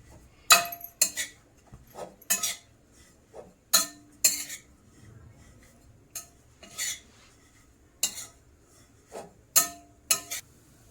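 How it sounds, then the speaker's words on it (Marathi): Dried coconut is roasted in a pan while a metal spatula clinks and scrapes against it in short irregular bursts, with quiet gaps between strokes. "खोबरं पण चांगलं असं लालसर भाजून घ्यायचं आहे"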